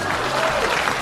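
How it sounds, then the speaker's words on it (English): A short burst of crowd applause, dense, even clapping from many hands that fills the full second without a break. "Please clap."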